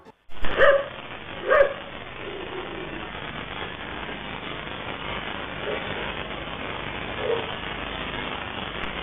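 Dogs bark in a few sharp bursts near the start as a single wild elephant approaches at night, captured on a CCTV camera at a farm near Coimbatore, then a steady low background hiss with one faint later yelp.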